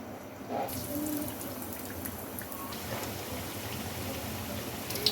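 Chicken potato tikkis fry in a pan of hot oil with a steady, dense sizzle and crackle. The sound is close and continuous with no pauses, and no voice is heard over it.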